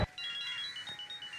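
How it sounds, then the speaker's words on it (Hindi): A mobile phone ringtone plays from inside a nearby bag, a quiet, muffled string of high electronic tones repeating quickly for about a second after a brief thump. "ये तो सानिया दीदी की फोन की रिंग है।"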